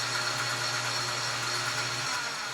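A lathe facing a piston is switched off after running, and its steady mechanical hum carries on briefly before a low tone drops away, close and moderately quiet with no talking.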